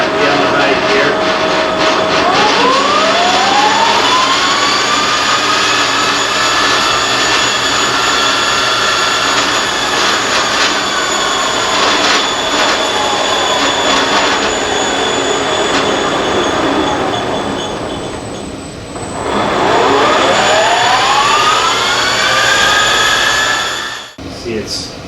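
A Monarch Merit machine, apparently a lathe, runs at high speed around 420 RPM, giving a loud continuous mechanical whine with tones that rise and fall as it speeds up and slows.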